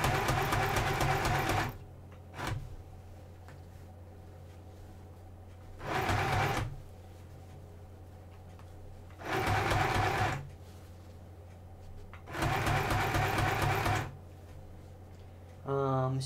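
A sewing machine stitches a Halloween costume seam in four short, loud bursts separated by pauses, the motor whirring briefly each time, with a voice heard faintly near the end.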